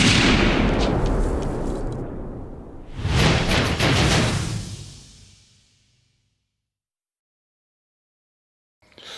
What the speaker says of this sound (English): to match them up with a specific type of cannon. But to do that, he needs a test firing.